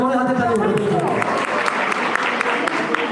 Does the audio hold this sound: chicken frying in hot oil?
no